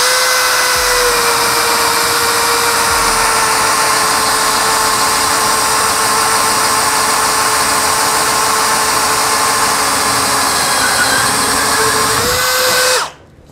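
A Bosch GSB 185-LI cordless drill bores with a 16 mm spade bit in speed position 1, a loud, continuous motor whine holding steady for many seconds before cutting off abruptly at the end.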